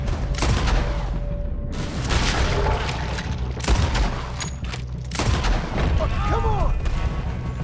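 Gunfire in Red Dead Redemption 2 cracks out in loud, sharp bursts across a chaotic firefight, with heavy booms and a shouting voice breaking in over the din.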